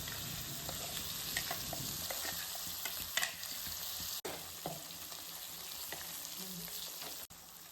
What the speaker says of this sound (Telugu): మంచిగా అన్నీ కలిసేటట్టు మంచిగా కలుపుకోవాలి